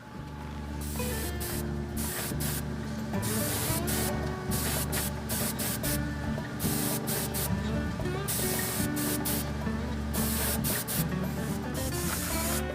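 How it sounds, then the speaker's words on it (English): An airbrush sprays paint onto a model diesel locomotive's fuel tank in repeated bursts, starting and stopping, over a constant low hum and faint background music. "You just put it on, let it dry, and you can go right back to spraying"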